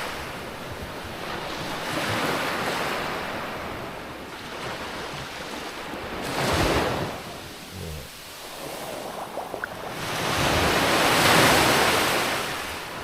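Steady wash of surf rolling onto a beach on Koh Chang, Thailand, in the early morning, with swells building and breaking in broad surges, wind rushing across the microphone throughout.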